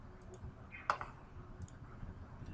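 A single crisp computer mouse click while working in Microsoft Access, close and short, with a couple of faint ticks after it over quiet room hiss.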